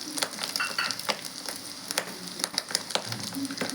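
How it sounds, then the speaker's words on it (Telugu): Chopped onion pieces hit a hot pan for street-style egg noodles, sizzling and crackling steadily with scattered sharp pops and light stirring scrapes, close up and without talk. "ఉల్లిగడ్డ ముక్కలు వేస్తున్నాను."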